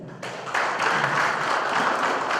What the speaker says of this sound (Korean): 뜨거운 박수도 한번 부탁드리죠.